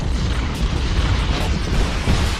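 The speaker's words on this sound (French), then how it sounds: "Alors, tel des Michael Bay du dessin, nous allons ajouter des explosions." A sound-effect explosion booms loudly, a sustained, rumbling roar with crackling bursts that fills the whole stretch without any talking.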